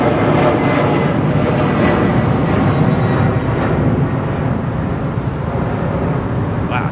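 A Korean Air Boeing 747 departing London Heathrow on a summer evening, its jet engines producing a loud, steady, broadband roar that holds throughout without any voices.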